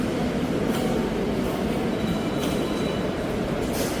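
A Kochi Metro train at the station gives a loud, steady rumble of wheels on rail, with high metallic squeals and faint clatter running throughout, close by and without talk.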